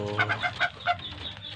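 Young jumbo hybrid muscovy ducks calling in a series of five or so short, rhythmic peeping cries, close and clear, trailing off into quieter farmyard background.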